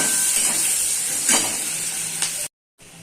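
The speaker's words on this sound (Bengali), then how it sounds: "পেঁয়াজটা যখন লাল লাল ভাজা হয়ে গেছে" Three chopped medium onions frying in a pan, a steady bright sizzle with occasional stirring scrapes, close and continuous before cutting off abruptly near the end.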